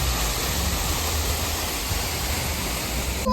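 Icy snowmelt water rushes down a mountain stream at Thamri Kund near Munsiyari, a steady, loud, unbroken roar with no voices.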